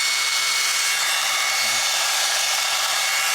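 A Milwaukee M18 cordless belt sander runs at a steady, constant whirring hiss that holds even throughout and cuts off sharply at the very end. No one speaks.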